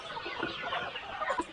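Green-egg laying chickens in a winter coop holding about 1,500 birds, a dense flock clucking and murmuring continuously at moderate loudness, with a few sharper calls and no talking.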